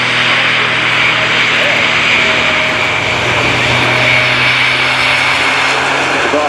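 A Grob Tutor light training aircraft flies a display at the Royal International Air Tattoo 2018, its propeller engine giving a steady, loud, continuous drone with faint tonal hum and no talking.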